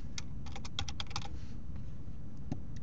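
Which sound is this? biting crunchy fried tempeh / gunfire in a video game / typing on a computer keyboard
typing on a computer keyboard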